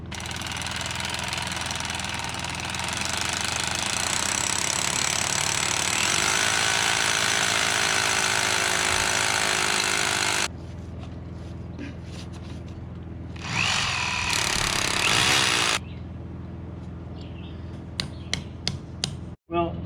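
A loud power drill bores steadily into timber posts for a timber-frame wall, a sustained grinding roar that cuts out partway, then returns in a short burst before a few sharp knocks.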